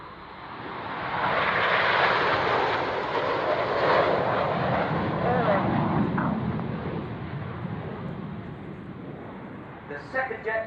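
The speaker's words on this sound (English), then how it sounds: "this is Concorde." Concorde jet airliner flying past at an airshow, a loud sustained jet roar that swells and holds for several seconds before easing, with a public-address announcer talking over it.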